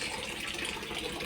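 Water pours steadily into a container, a brief continuous gushing splash heard up close.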